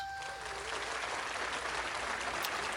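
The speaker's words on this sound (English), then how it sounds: "Let's give a round of applause for Papoose." Applause from an audience, a steady, even wash of clapping heard from some distance for a few seconds, with no talk over it.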